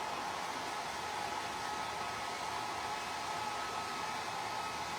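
A hair dryer runs steadily to dry a wet painted craft surface, a continuous close, loud airy whoosh that holds without a break throughout.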